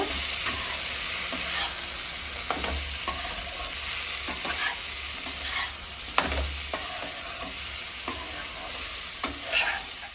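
Ground coriander, chilli powder and pumpkin greens fry in a pan with a fish head, sizzling steadily up close while a utensil scrapes and stirs in irregular knocks throughout.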